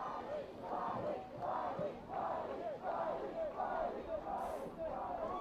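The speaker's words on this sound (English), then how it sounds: "They're even chanting his name." Spectators at a high school football senior night game chant a player's name in a steady rhythmic two-beat pattern, about five repetitions, loud and continuous from the stands.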